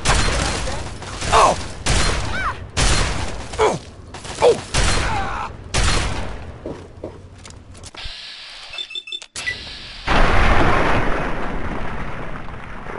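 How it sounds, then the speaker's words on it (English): Grenade blasts and gunfire in Fallout 3, a run of sharp, booming bursts with mechanical clatter, then a brief near-silent gap before a louder rumbling blast and chaotic noise. "another grenade bouquet"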